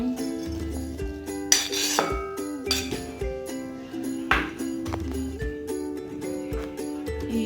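Apple pieces drop into a mixing bowl for a creamy fruit chaat, setting off repeated bright clinks and clatters of dishware and utensils close by in an irregular busy rhythm.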